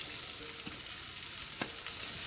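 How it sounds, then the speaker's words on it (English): Minced ginger, garlic and vegetables sizzle in a stir-fry pan, a steady close hiss with a couple of brief clanks from a spatula. "You want to hear it sizzle like that."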